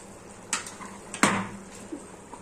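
A spoon stirring pav bhaji vegetables in a cooking pot, giving a few distinct scraping knocks and clinks against the metal, close up, over a low background hum.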